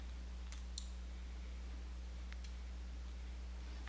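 A few sharp mouse clicks on a Windows PC, one around the first second and another later, faint and close, over a steady electrical hum with no talking.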